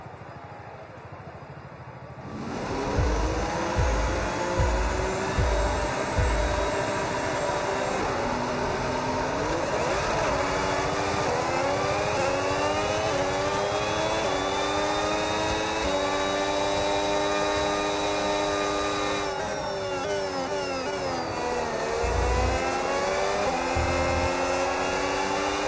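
A Formula 1 car engine revs at the race start in the F1 26 video game, a loud steady high-pitched whine that swells and climbs in pitch. Low thumps sound near the beginning.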